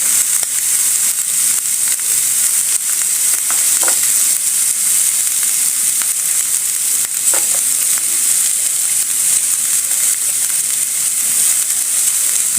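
Onions added to ground meat in a hot pan while cooking for pasta, giving a steady loud sizzle and hiss throughout with a couple of faint stirring scrapes, no talking.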